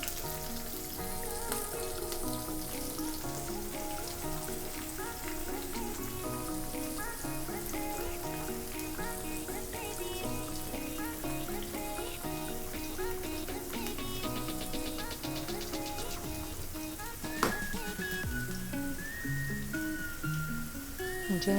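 Onions fry with whole spice masala in a pan, a faint continuous crackle and sizzle running the whole time under a background of music, with one sharp clatter near the end.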